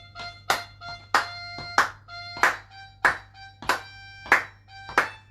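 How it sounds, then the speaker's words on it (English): Sharp hand claps ring out at a steady, even beat, about eight in a row, fairly close and clear over a faint low hum, with no talking. "we're going to see if we can get some clapping going this time"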